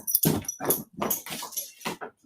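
A dog during a chair yoga session makes a run of short, close vocal bursts, likely whines or barks in a broken rhythm over a little more than two seconds, with no talking over it.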